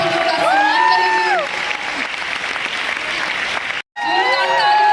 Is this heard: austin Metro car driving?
no